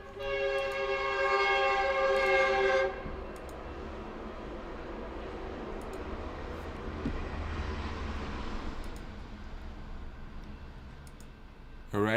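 A train horn sounds loudly with stacked tones for about three seconds, then the rumble of the passing train carries on steadily, mid-distance, with no talking over it.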